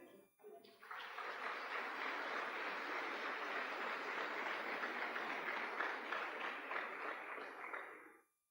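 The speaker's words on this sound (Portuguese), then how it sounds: "Você pode aplaudir ao Eterno?" A church congregation at a celebration service breaks into sustained, even applause that holds steady for several seconds before cutting off.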